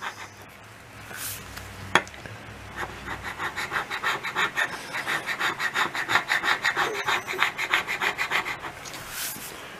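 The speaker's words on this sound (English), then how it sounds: "Might need a little more work scraping all the stuff off the table here." Gasket material being scraped off a table, a rapid run of rhythmic rasping strokes, close and fairly loud, following a few separate scrapes and a sharp knock.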